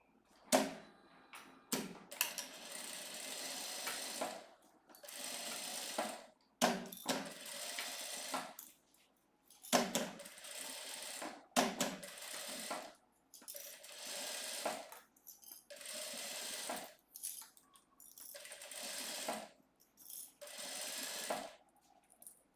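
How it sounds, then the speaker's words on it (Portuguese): A sewing machine stitching a fabric vanity case bag runs in repeated bursts of a few seconds each, separated by short pauses and small clicks, close and fairly quiet with no talking. "E depois eu vou costurando"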